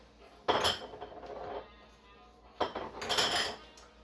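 Sage and anise spices ground by hand, likely with a mortar and pestle, giving two loud bursts of scraping, clinking crushing strokes separated by a quieter pause, close and with no talking.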